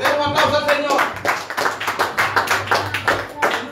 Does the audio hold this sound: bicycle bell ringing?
no